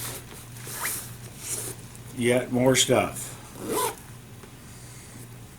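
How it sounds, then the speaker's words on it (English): A zipper on a new J Flowers case is drawn open in a few short rasping pulls, close and moderately loud, with a person talking around it. "But is it a zipper? Yes, it's a zipper for putting"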